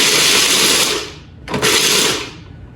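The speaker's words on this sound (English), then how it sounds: "It's just a little small mincer thing" A small electric mincer chops cranberries and blueberries in two loud whirring bursts, the first about a second long, then a brief pause and a second burst that tapers off.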